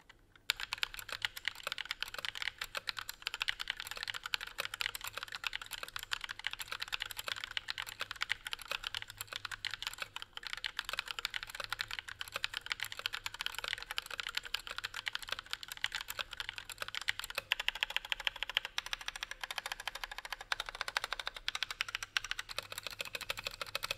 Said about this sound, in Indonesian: habis ini kita typing test dulu